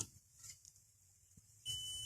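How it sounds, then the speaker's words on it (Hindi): A multimeter on continuity test gives a thin high beep as the probe touches a Toyota Land Cruiser wiper motor wire, arriving near the end after quiet handling noises, faint and close. "देखें बीप का साउंड आ रहा है"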